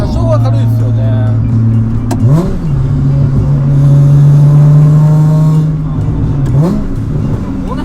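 A supercharged Nissan Fairlady Z33 with a lightweight flywheel, heard up close: a loud, steady engine drone that rises in two quick rev blips.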